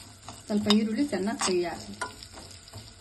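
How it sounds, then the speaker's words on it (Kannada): Onions frying in a spoonful of oil for majjige sambar, with a close sizzle broken by scraping and stirring strokes in the pan, and a faint voice briefly underneath. "ಈರುಳ್ಳಿ ಸ್ವಲ್ಪ ಚೆನ್ನಾಗಿ ಫ್ರೈ ಆಗಲಿ."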